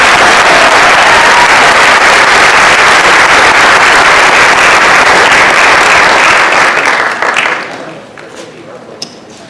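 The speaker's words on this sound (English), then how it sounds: "Let's give our researchers one more round of applause." Loud, dense applause from a celebration audience at a panel and release event fills the room, sustained for several seconds before dying away quickly into near silence with a stray clap.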